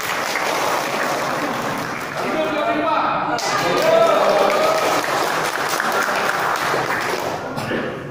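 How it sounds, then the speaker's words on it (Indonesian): Applause from a gathering at a Buddhist vihara (Tien En Tang temple) during an evening service, steady dense clapping throughout with voices and chatter mixed in underneath. "Yuk kita beri tepuk tangan"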